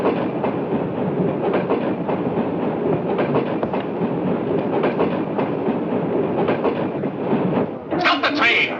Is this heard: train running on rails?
yes